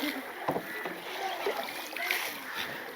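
Kayak paddles dip and splash softly through calm mangrove water in Varkala, with faint intermittent strokes and drips, quiet and close, under light background ambience.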